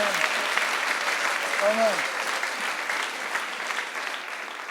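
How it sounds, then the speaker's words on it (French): A church congregation claps in steady, continuous applause, fairly close, while a voice speaks briefly over it. "Applaudissez pour la parole."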